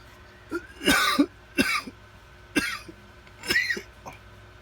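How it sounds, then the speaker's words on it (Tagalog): A series of five harsh coughs, spaced unevenly over a few seconds, close to the microphone with quiet background between them. "pasensya na nyo na inuubo kasi ako"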